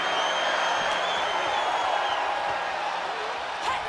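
Wrestling arena crowd in the WWE 2K26 video game, a steady wash of roaring and cheering that holds evenly at a constant level with no clear talk over it.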